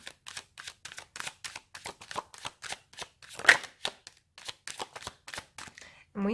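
Tarot cards are riffled and shuffled close up in a quiet room, a long series of quick, crisp card flicks in an even rhythm before one card is drawn, with a faint voice briefly at the end.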